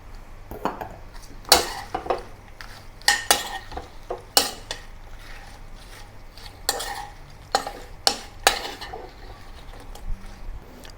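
A metal spatula scrapes and clanks in a pan as garlic shrimp are stir-fried with crispy fried garlic, irregular loud scraping strokes over a soft sizzle, close up.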